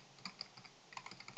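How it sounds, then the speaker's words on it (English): Quick, light keystrokes tap on a computer keyboard in a short irregular burst, close and fairly quiet, with no voices. "if I just start typing the name of the script and I hit tab, it'll autocomplete"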